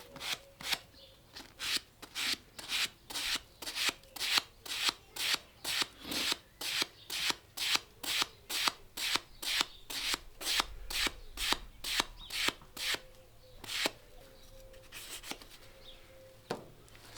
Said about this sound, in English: Sanding done.